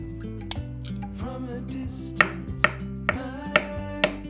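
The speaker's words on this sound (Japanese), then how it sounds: "まずはカブとアボカドを食べやすい大きさに切ります" A knife chopping turnip and avocado into bite-sized pieces for a vegan salad: a handful of sharp, separate cuts on a board, spaced about half a second apart, over soft steady background music.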